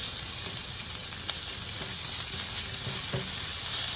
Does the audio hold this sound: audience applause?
no